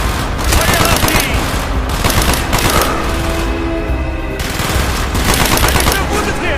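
Gunfire rattles through a Call of Duty Black Ops battle in rapid automatic bursts and dense volleys, loud and nearly continuous with brief pauses between salvos.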